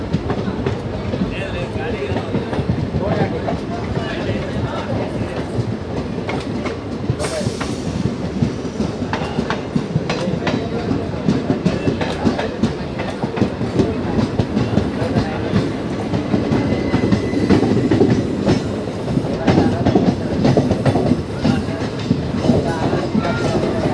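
The Circar Express passenger train, which runs between Kakinada and Chengalpattu, rolls along the rails with a steady, loud rumble and rhythmic clickety-clack of wheels on track joints, heard from close by on board, continuous throughout.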